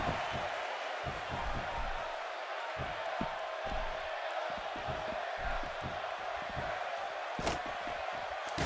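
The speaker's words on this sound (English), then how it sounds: "by the sound of this crowd, I think they're getting what they wanted" A dense arena crowd roars throughout a wrestling match in the WWE 2K16 video game, a steady wash of cheering with occasional thuds and slams punching through.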